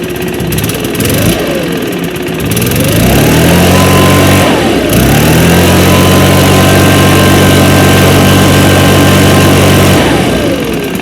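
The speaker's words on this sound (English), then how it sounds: "as you can hear, it's really quiet for a backpack leaf blower" A STIHL BR500 backpack leaf blower is started and runs at a steady, loud drone for most of the clip, its pitch rising as it revs up, dipping briefly and climbing again, then winding down toward the end.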